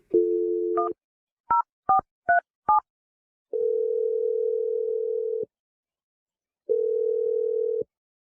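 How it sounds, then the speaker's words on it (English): Telephone tones: a dial tone, then a quick series of keypad beeps, followed by two long ringing tones with silence between. "I'm going to dial Dave's phone number"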